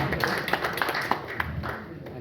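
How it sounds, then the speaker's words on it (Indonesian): An audience at a university alumni gathering claps for a guest, a run of distinct hand claps at moderate volume under a light background of voices. "Tepuk tangan ke Pak Alimah Pak"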